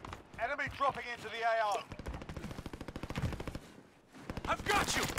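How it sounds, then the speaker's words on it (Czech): Rapid bursts of gunfire in Call of Duty: Warzone crackle in quick rhythmic volleys, interrupted by a brief shouted voice and a pause before more shots. "Střílí sem furt."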